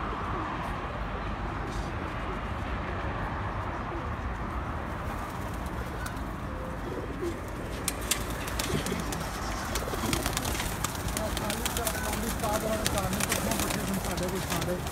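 Pigeons coo softly and repeatedly at a home loft, under steady talking from people nearby, with scattered fluttering and rustling.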